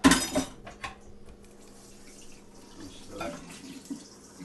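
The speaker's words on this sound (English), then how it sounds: "we're gonna just drop those and drain the water out" Water poured off a pot of cooked peas into a sink, a brief splashing gush at the start followed by quieter trickling and a few clinks, fairly close.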